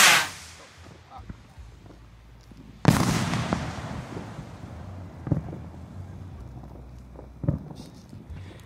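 A very large consumer firework rocket gives a sharp burst at launch, then a loud booming explosion a few seconds later, followed by trailing crackles and pops against outdoor wind noise.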